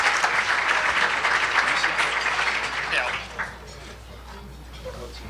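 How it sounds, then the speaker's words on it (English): Audience applause for two speakers at a public policy event, dense clapping for about three seconds that thins and fades, leaving a quiet room with faint low hum. "Round of applause, please."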